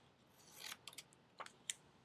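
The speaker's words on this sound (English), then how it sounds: "I first cut out of the large sheet of paper a smaller piece" Scissors snipping through a sheet of paper while making a paper-cutout collage: a few quiet, crisp snips, close and isolated, with short pauses between cuts.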